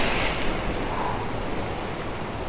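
Storm waves pound the shore at Fiolent in Crimea, a dense, continuous roar of surf and churning water with wind buffeting the microphone and no voices.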